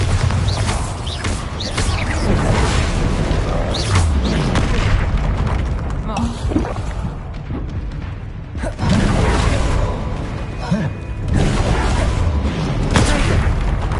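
Bombarda spell blasts in the video game Hogwarts Legacy set off loud, heavy booms with rumbling, clattering debris, several bursts over a dense, noisy battle mix.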